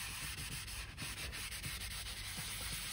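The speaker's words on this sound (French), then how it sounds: "faut frotter un petit peu, bien sûr" Steady close-up scrubbing and rubbing of a Tesla car's interior surfaces, a continuous gritty friction sound with small rhythmic strokes and no voices.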